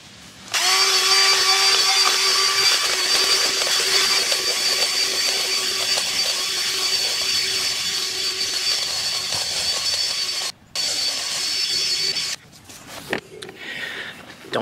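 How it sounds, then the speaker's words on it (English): A power drill with a bit boring into lawn soil for manual aeration whines steadily at close range, with a short pause and a few choppy bursts at the end. "a little manual aeration with my drill"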